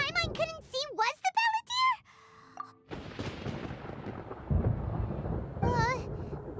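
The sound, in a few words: thunder in a video game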